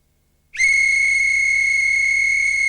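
After a half-second of silence, a loud, piercing high-pitched tone starts abruptly and holds steady and unbroken to the end.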